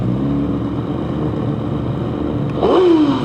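A Honda engine, from a racing game or a real car, hums along steadily, then revs sharply upward near the end, close and loud with no talk.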